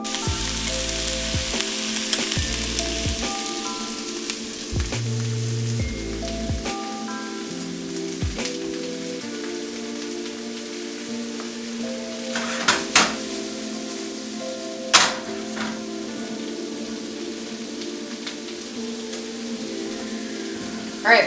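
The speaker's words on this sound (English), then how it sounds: "I'm gonna make sure these onions are getting nice and translucent." Chopped onions fry in a pan, crackling and sizzling steadily throughout, with a few sharper spatters and stirring knocks, under a low hum of background tones.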